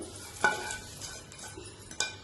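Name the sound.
mixing tamarind rice in vessel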